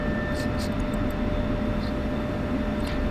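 An F-16CM jet in Digital Combat Simulator roars steadily on afterburner during takeoff, a constant broad engine rush with a few faint higher chirps over it and no talking.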